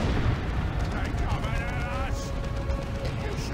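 In a Dawn of War 2 multiplayer match, a predator tank cannon blasts a looted tank, with dense booming explosions and battle noise rumbling throughout, heavy and continuous, while a commentator talks over the action.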